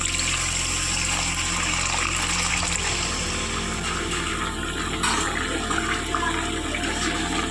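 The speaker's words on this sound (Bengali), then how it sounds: "এখন এর মধ্যে গরম করে রাখা অল্প পরিমাণ জল দিয়ে দেবো।" Heated water poured into a cooking pot of potato curry for soyabean muitha, a steady rushing splash that changes tone partway through and fills the pot at close range.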